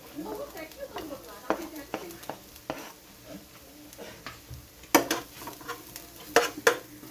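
Garlic frying in a pan for a home-cooked vegetable dish, a soft sizzle under scraping stirs and a few sharp utensil clinks against the pan.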